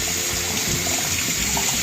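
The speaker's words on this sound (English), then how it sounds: "I'm just wetting up the Nerf a little bit." Tap water pours steadily to rinse a plastic Nerf blaster in a sink. A loud, continuous hissing splash with no pauses or voices.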